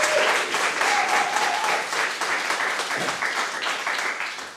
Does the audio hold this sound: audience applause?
yes